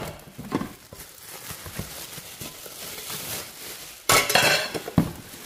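Pots and a pot lid from a new cookware set are handled during unboxing, giving light clinks and knocks with a sharper clatter near the end, fairly close and with no speech.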